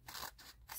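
Scissors trim a small strip of washi tape on a planner page, giving three quick, faint, crisp snips close by.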